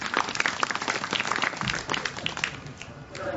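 Forced applause from a crowd at a Sri Lankan political rally guarded by armed soldiers, brisk clapping from many people, fairly close, with a brief dip partway before resuming.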